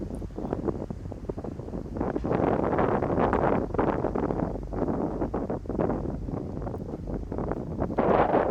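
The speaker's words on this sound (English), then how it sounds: "You can hear the wind" Steady wind gusting across the microphone during an outdoor disc golf round at a provincial tournament, a continuous loud rushing roar that swells and eases without talk.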